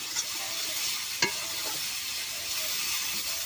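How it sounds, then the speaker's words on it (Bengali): Raw green banana pieces fry in a pan with a quiet, steady sizzle while being stirred, with a sharp utensil clack against the pan partway through. "এরকম করে আমি কলাটা ভাজা ভাজা করে নেব।"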